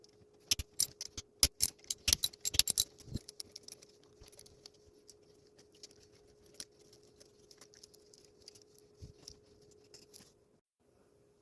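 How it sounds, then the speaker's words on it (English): Four 10 mm nuts being worked off stud bolts on a 139QMB scooter engine head, freeing the cam and rocker holder: close metallic clicks and clinks, packed densely at first, then sparse and scattered over a steady low hum. "remove these 4 nuts from the stud bolts so that we can take the cam out and the rocker holder"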